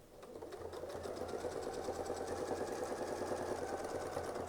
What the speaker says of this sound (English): I'm going to sew right down to there